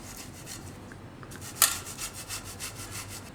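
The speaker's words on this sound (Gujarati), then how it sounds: "તો બધાય કેળા આમાં છીણી લેવું આપણે." Bananas grated on a hand grater for soya banana tikki, a steady rhythmic rasping rub with one sharp click, close and moderately loud with no talk.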